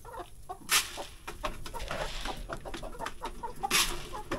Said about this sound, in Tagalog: May 2 akong hen dito at 3 rooster.